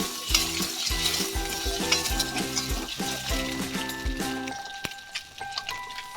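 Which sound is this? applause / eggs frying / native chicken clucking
eggs frying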